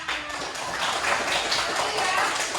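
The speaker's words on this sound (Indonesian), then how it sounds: "Oke, tepuk tangan." Schoolchildren in a classroom clapping their hands on a teacher's cue, a short burst of brisk, overlapping claps close by, with voices mixed in.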